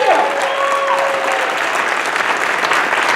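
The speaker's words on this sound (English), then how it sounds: "round of applause for Judy Gold" Audience applause for comedian Judy Gold at the close of a Purim interview event; loud, continuous clapping from a crowd, steady throughout, with a brief tone audible at the very start.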